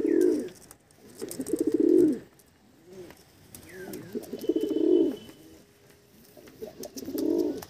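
Desi pigeons in a loft coo again and again in low, throaty rolling bursts of a second or two, close and fairly loud. A few faint chirps come between the coos, and no one speaks.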